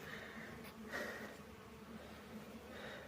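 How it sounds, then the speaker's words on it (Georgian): A honeybee swarm clusters beneath a hive in a Georgian apiary, giving off a steady, fairly faint buzzing hum that holds throughout with no talking. "ფუტკარი გუნდში ასე არის ქვემოდან"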